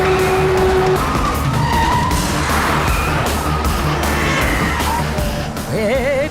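Tires skid and squeal amid busy traffic in a movie chase scene, loud and continuous with engine roar and a rising siren-like wail near the end.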